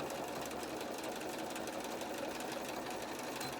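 A sewing machine runs steadily while top-stitching a fitted mask with a pocket, a dense continuous whir at even loudness throughout, with no talk.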